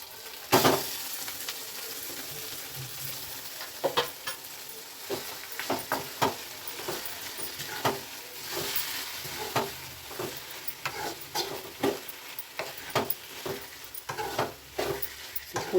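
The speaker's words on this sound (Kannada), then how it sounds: "ಈಗ ಸೊಪ್ಪು ಹಾಕೋಣ." Leafy greens sizzle steadily in a hot pan for a village-style greens stir-fry with onion, punctuated by frequent sharp scrapes and clinks of a spatula stirring, close and clear with no talking.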